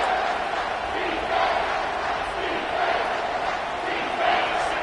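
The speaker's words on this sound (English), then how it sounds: "This crowd is trying to inspire this defense to make a big red zone stop." Stadium crowd at a college football game roaring steadily as the home fans try to rally the defense near the red zone, a continuous dense wall of voices with swelling shouts and no clear pauses.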